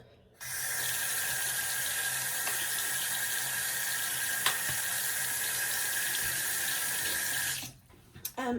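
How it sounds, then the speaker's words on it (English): A bathroom sink tap runs steadily during a nighttime skincare routine, giving a constant close hiss of flowing water for several seconds before it is shut off near the end. "I'm turning my water on so you're going to hear that."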